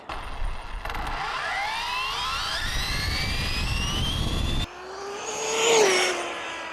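A high-speed RC car on a speed run gives a loud, whining motor drone that keeps rising in pitch. It cuts off abruptly, then returns as a fainter passing whine.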